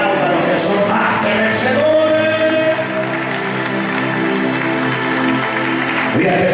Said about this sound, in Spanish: Levanta la dos manos y aplauda a los que son más que